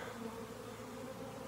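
A honey bee swarm of many thousands hums in a steady, dense, low buzz, close and continuous without pause; no voices.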